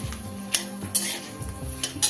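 Dried red chilies, a cinnamon stick and black pepper being stirred in hot oil in a pan, with repeated scraping clinks of a spoon against the metal and a faint sizzle underneath.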